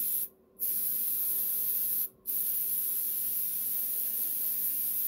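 Spray bottle misting a 50-50 ink mixture onto mini pumpkins: two brief pauses near the start, then one long continuous hissing spray, close and steady.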